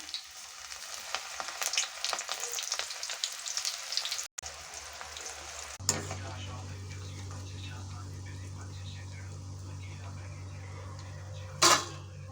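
Onion pakodas dropped into hot oil, a bright busy sizzle at first, then a short break followed by a calmer bubbling fry with a low steady hum beneath and a brief sharp burst near the end; a voice may be faintly present.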